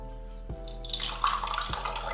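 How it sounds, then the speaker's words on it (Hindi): Water pours into a dish soap mixture, a close splashing stream that starts softly and grows fuller, with a couple of small knocks from the container. "और पानी ऐड कर लेते हैं हम।"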